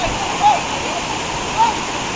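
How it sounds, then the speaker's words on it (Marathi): A steady rush of falling water at Usgaon waterfall near Virar fills the scene, a continuous broad roar with a couple of faint, brief chirps over it. "हा वॉटरफॉल बघा छोटावाला एक नंबर वाटतोय"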